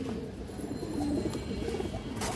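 A pigeon coos softly in a quiet setting, with faint low rolling calls over a steady background hum, distant and low in level.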